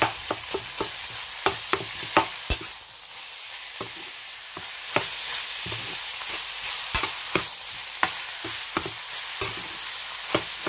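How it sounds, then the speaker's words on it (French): Minced meat frying with onion in a pan, a steady sizzle broken by repeated sharp scrapes and knocks of a utensil stirring, close and clear with no voices. "Je vais ajouter la viande hachée. Que voici. Et je mélange."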